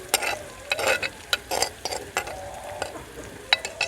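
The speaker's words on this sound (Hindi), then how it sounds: "अभी हम इसमें डाल देते हैं ये जो हमने अंडा, प्याज, टमाटर और हरी मिर्च, नमक मिर्च मिक्स किया।" Egg, onion, tomato and green chili mixture with salt and pepper hitting a frying pan for an egg and green peas omelette, giving a near series of short wet sizzles and stirring scrapes in uneven bursts.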